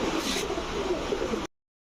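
A pair of pigeons cooing softly in a loft, a brief low murmuring coo under faint background noise with no talk.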